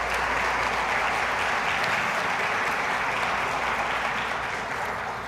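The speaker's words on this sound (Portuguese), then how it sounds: "Vamos dar uma salva de palmas a esse Deus" A church congregation breaks into sustained, dense applause that fills the room evenly and continues steadily, tapering only slightly toward the end.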